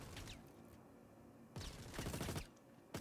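Gunfire in a shooter video game, muffled bursts of rapid shots in several clusters over a low background rumble, fairly faint and distant, with no talking.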